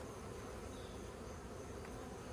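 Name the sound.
honey bees buzzing during hive inspection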